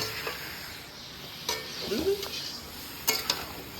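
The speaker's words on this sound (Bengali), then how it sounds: "এখন সোয়াবিন রান্না হচ্ছে" Soybean chunks cooking in a pan, a quiet background sizzle with a few distinct scrapes and clinks of a spoon stirring, faint and mostly steady.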